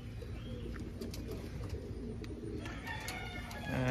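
Roller pigeons coo softly inside a kit box, with low, repeated murmuring calls close by and a faint rustle and scrape near the end, without speech.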